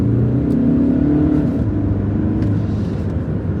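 A 2017 Skoda Superb 2.0 TDI DSG 4x4 pulls away from a stop using launch control, a loud steady drone that rises in pitch, heard from inside the car.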